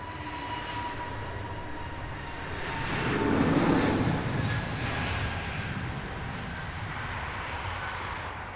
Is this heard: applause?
no